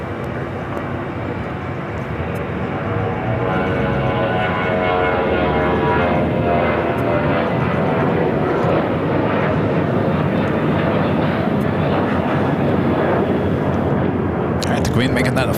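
Boeing 747 airliner nicknamed Queen at LAX airport roars continuously and loudly in a broad jet rumble with a faint high whine, holding steady throughout before ending in a brief sharp noise.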